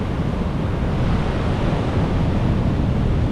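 Ocean surf rolling in at high tide along the coast near Alamere Falls in Point Reyes, a steady, dense wash of waves with wind buffeting the microphone throughout, no voices.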